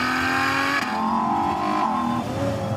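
A Ferrari V12 engine revs hard in a steady, loud, close wail, its pitch rising and falling through sweeping harmonics with no talk over it.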